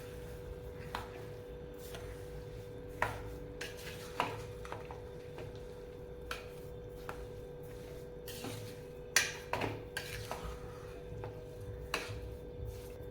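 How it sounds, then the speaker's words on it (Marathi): Khoa stirred into carrot halwa in a pan: faint scraping and clinking of a spoon against the metal pan, irregular taps and scrapes over a low steady background hum. "एक वाटी खवा घालूया। हलवून घेऊयात ते व्यवस्थित।"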